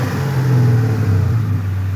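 A Mercury Marauder V8 fitted with a new MagnaFlow muffler revs up close, a loud, deep exhaust rumble swelling and settling over two seconds with no voices.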